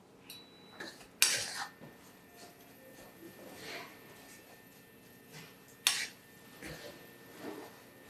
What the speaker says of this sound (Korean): 볶아놨던 멸치를 넣고 한번 볶아줄게요